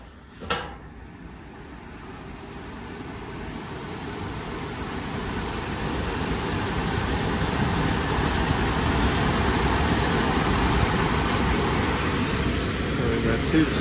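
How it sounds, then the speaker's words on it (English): An air conditioning blower starts up after power is restored, a broad steady whoosh of moving air that swells gradually and then holds loud and even, preceded by a brief click near the start. "There goes the blower."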